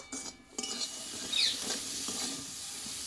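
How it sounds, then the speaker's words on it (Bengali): A spoon stirs a pea filling in a pan on the stove, with scraping strokes against the metal and a soft sizzle underneath, close and fairly quiet. "কিছুক্ষণ নাড়াচাড়া করে নিতে হয় ভালো করে যেটা কাঁচা গন্ধটা চলে যায়"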